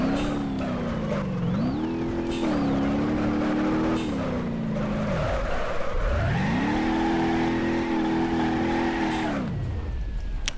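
A car engine in the BeamNG driving game revs up and down repeatedly, pitch sweeping high then dropping, steady and loud with no talk over it.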